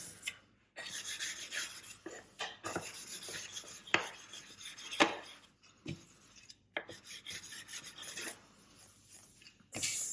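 Sugarpaste fondant smoothed over a cake board, close and soft: uneven rubbing and scraping strokes with brief gaps and a few sharper taps, and no talking.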